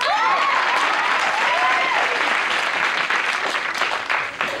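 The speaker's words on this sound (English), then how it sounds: "They were clapping for us." A crowd applauds loudly and steadily, dense clapping that fades slightly at the end.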